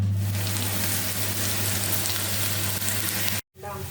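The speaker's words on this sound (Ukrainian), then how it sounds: "спочатку я буду тушити капусточку" Steady hissing sizzle of cabbage cooking in a hot pan, continuous and close, with a low hum underneath before a brief cut.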